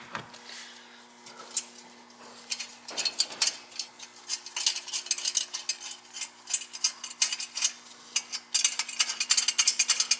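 A socket ratchet loosens a bolt during a JB4 and downpipe install on a car, giving a faint start and then a steady string of close clicking ticks that quickens and grows louder near the end.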